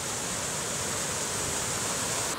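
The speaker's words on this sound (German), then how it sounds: "Da vorne habe ich meine persönliche Wasserquelle." A stream by a campsite in northern British Columbia or the Yukon gives a steady, even rush of water, near and fairly loud, with no voices.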